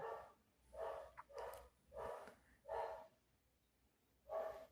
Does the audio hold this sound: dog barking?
yes